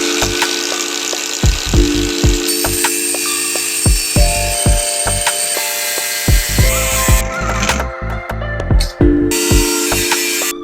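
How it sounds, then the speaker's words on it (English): An angle grinder cuts freehand through a steel exhaust pipe for a DIY resonator, its loud, high whine rising and dropping in repeated bursts with sharp clicks and clatter between passes. "I'll be doing it freehand with an angle grinder"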